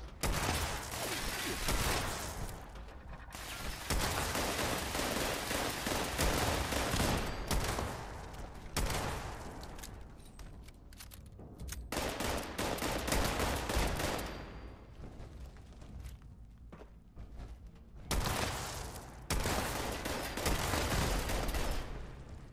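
Turret gunfire in the video game Fallout 76, loud sustained bursts of rapid automatic shots separated by short pauses.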